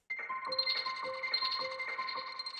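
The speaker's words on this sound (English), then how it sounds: "Here's what the preset sounds like." An Analog Lab 'Fallen Upright' ambient SFX synth preset sounds faint and eerie, sustained tonal layers with a repeating pulsing pattern and shimmering upper overtones, playing alone without talk.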